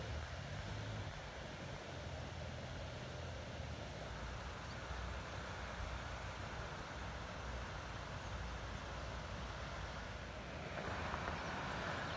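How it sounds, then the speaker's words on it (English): Waterfall at Buckley Falls near an old mill, a steady broadband rush of falling water that holds constant and loud throughout with no voices. "The top part, or the bottom part of the waterfall."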